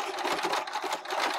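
A sewing machine stitches a seam on a fabric pencil case, producing a fast, steady mechanical whir and rapid needle clatter close by, with no talking.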